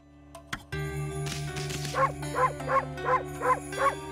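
A small cartoonish dog barks six times in a steady rhythm in the video game Okami, over looping game music after a couple of opening clicks.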